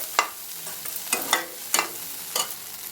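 Egg podimas with pepper is stirred in a pan, with four or five distinct spatula scrapes against the metal over a faint, quiet sizzle.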